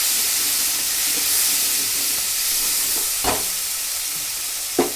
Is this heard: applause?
no